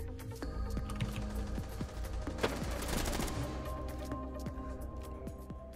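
Rainbow Six Siege gunfire: rapid bursts of shots crackle fairly faintly over a steady game background, with a denser volley in the middle and keyboard clicks throughout.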